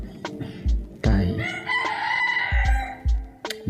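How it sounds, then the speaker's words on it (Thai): A rooster crows loudly nearby in long drawn-out calls, overlapping with other clucks and short crows from surrounding chickens. "ไก่อะไรทำไมมันขันกันนักกันหนา"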